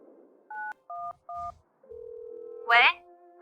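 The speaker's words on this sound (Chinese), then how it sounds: "打个电话问问情况吧。" A landline phone is dialled for a call: three short paired keypad tones, then a steady ringback tone, close and clear, before a voice answers at the end.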